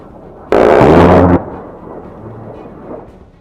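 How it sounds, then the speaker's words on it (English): A General Electric GAU-8 Avenger 30mm cannon on an A-10 Warthog fires one loud, close, buzzing burst lasting just under a second, then cuts off abruptly into a fading rumble. "Utilizing its massive General Electric GAU-8 Avenger 30mm cannon to obliterate anything on the receiving end."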